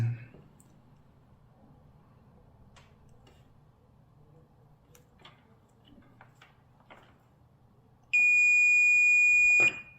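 Multimeter continuity beep while testing side mirror turn signal wiring, a steady loud tone lasting about two seconds near the end after quiet handling clicks.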